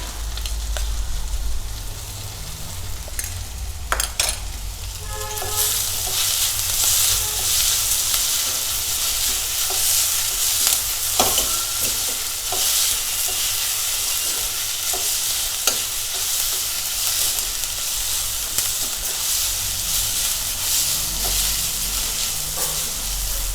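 Vegetables and green chilli paste for veg hakka noodles sizzle steadily in a hot pan, a continuous close frying hiss with scattered crackles and scraping stirs, no voices.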